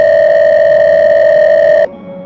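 A phone tone sound effect gives one steady, loud electronic beep that holds evenly for nearly two seconds and then cuts off abruptly, leaving a faint hum.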